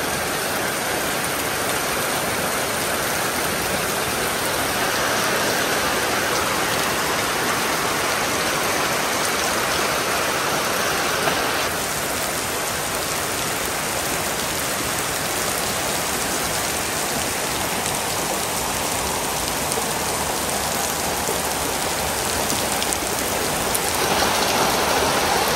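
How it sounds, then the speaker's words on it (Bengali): Heavy rain pouring down in a Bangladeshi village, a loud unbroken wash of drops on surfaces that stays steady throughout with no voices. "বৃষ্টি মানে বৃষ্টি,"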